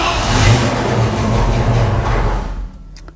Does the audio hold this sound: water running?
no